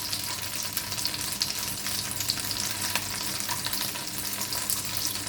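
Butter and a little olive oil sizzle in a pan over medium heat for pancakes, making a steady, close, crackling hiss with scattered small pops throughout.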